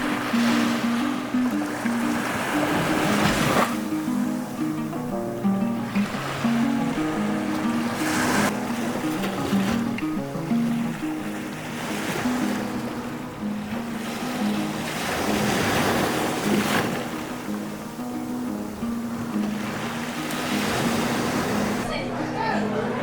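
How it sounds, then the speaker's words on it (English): Sea waves wash onto the beach at Agios Gordios, Corfu, breaking in slow repeated surges that rise and fall every few seconds, with wind noise and faint background activity underneath. "The sound of the waves is one of the most calming things that exists."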